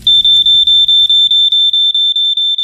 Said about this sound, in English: Make sure you fit a smoke alarm and test it weekly.